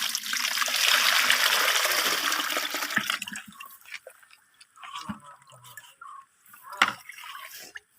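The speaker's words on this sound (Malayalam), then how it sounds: "വെള്ളം ഒഴിക്കട്ടെ ഇങ്ങോട്ട്" Water gushes and splashes steadily for about three seconds, then stops, leaving a few drips and small clatters.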